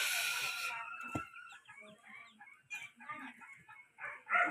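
A Brahma chicken clucks and chatters in short bursts at close range, with a brief sharp knock and some background noise between calls.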